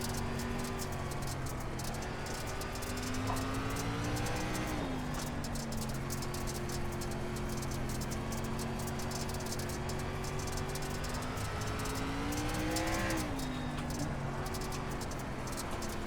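Race car engines in the iRacing sim, SRX cars on the Lanier dirt oval, drone steadily with harmonic engine tones that rise and fall at around 5 and 13 seconds as the cars shift and change speed, with no talk.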